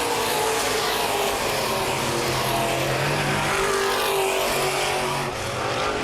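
Open-wheel modified race cars roaring around Baer Field Speedway, a steady loud wall of engine noise with a rising and falling pack drone and a brief dip near the end, no voices.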